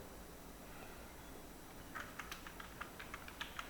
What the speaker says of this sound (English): So now I am going to type some text here.